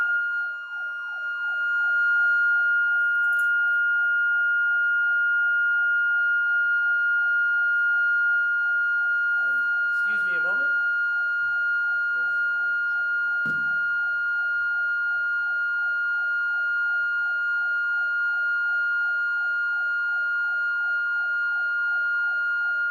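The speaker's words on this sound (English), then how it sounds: "I'm not sure why somebody set the temple alarm while I was in here" A temple alarm blares as a continuous, steady electronic siren tone for the whole stretch, loud and unbroken, while someone briefly speaks over it partway through.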